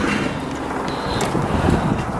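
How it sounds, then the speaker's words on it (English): Strong, cold wind buffets the microphone outdoors at a doorway, a steady, loud broadband roar with gusts that swell and fade throughout. "We can feel how windy it is just from standing here at the door"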